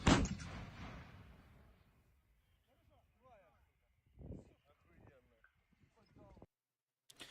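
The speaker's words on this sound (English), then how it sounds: "Here's footage, of course, of a Mitsa artillery piece firing." A Msta-B artillery piece fires one loud, sharp boom that rolls off into a fading rumble. Faint voices follow in the quieter remainder.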